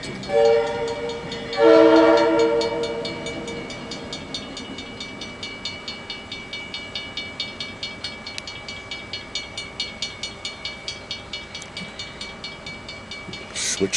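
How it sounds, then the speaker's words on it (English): Light locomotive engine crossing at Saginaw sounds a loud horn blast early on, then rolls by with a steady, regular clickety-clack of wheels over rail joints, pulsing evenly for many seconds. "Light engine crossing Saginaw."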